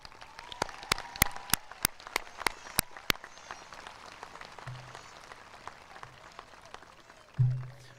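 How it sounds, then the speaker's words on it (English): A sparse scattering of individual hand claps rings out at a high school graduation ceremony for the teachers, with distinct claps spaced in an uneven rhythm across a quiet hall before fading, followed by a brief thump. "If they would please rise so we could give them a round of applause."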